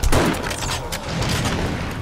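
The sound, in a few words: shotgun fire in 7 Days to Die video game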